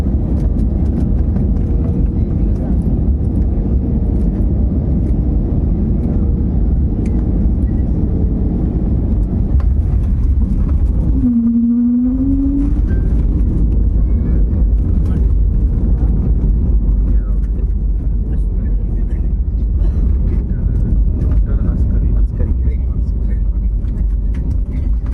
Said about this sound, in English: our flight is going to land now